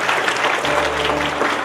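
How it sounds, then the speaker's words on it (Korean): A church congregation applauds steadily throughout, a dense, even clapping from a crowd in the sanctuary during a Sunday worship service. "박수로 격려하겠습니다."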